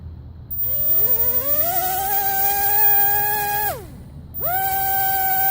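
Thin, whining buzz of the weak rear electric motor on a JJRC JJ1000A RC car, rising in pitch as it spins up, holding steady, cutting out briefly, then whirring again close by.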